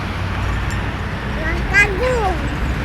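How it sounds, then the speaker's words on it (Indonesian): A bus passes during a bus parade on a road, a steady broad rumble of traffic with a brief louder swell near the end, while people talk excitedly over it. "Woi, bus Putri Riau Agung."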